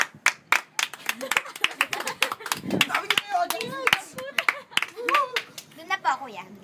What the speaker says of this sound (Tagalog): Palakpak muna bago kami magsimula.